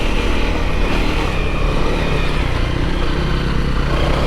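A dirt motorcycle climbs a slick clay forest trail in Wayne National Forest, its engine droning loud and close with a continuous rough rumble and no clear break as it downshifts.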